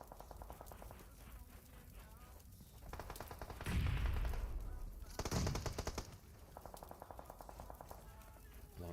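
Rapid automatic gunfire in PUBG Mobile aimed at a vehicle, rattling bursts of shots repeating through the clip with louder blasts in the middle, while a voice talks over it.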